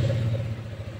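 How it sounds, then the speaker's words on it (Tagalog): A Benelli Motobi EVO 200 bobber motorcycle's 200cc engine, started by push button, runs briefly at a low, even idle with a close, steady throb. "Subukan naman natin i-on tong motor na to."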